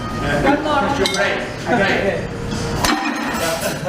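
A ceramic plate thrown down and smashed for good luck, a sharp crash and clatter of breaking pieces amid lively talk and background crowd noise.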